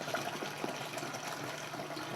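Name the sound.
adding water to wine juice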